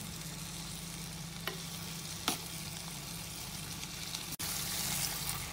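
Green beans fry in a pan with salt while being stirred, giving a quiet, steady sizzle with occasional scraping strokes and a single sharp click partway through.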